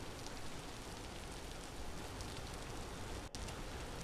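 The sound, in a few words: rain sounds in Vintage Story video game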